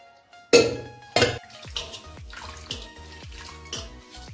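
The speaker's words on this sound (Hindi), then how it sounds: "2-3 पानी हम अच्छे से धो लेंगे ताकि इसके अंदर का खट्टापन खत्म हो जाए" Chhena being rinsed by hand for a sweet: water splashes and sloshes in a vessel with a few loud pours, then a run of rhythmic squelching, dripping strokes close by.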